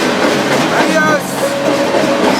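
A freight train rolls along the rails during a trainhopping trip near La Junta, giving a steady loud rumble with clickety-clack and a brief high squeal, heard up close from aboard the train.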